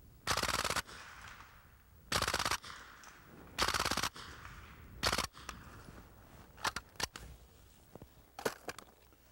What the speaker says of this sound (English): If you listen closely, if this sound comes through, you can actually hear the bullets impacting on the trees in there.